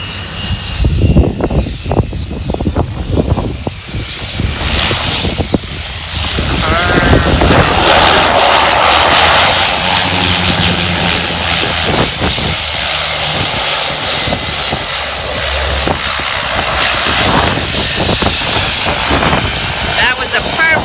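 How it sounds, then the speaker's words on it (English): A light airplane lands on an extremely short runway, its engine droning loudly and changing pitch as it comes in, with wind buffeting throughout and people talking over it. "That was a perfect landing."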